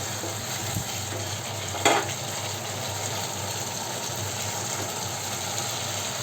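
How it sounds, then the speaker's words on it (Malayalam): Pre-fried chicken sausage pieces are dropped into a pan of masala for a chicken sausage roast. There is a brief clatter as they land, then a steady, loud sizzle that continues on its own. "നേരത്തെ ഫ്രൈ ചെയ്ത് വെച്ചിരിക്കുന്ന സോസേജ് ചേർത്ത് കൊടുക്കാം"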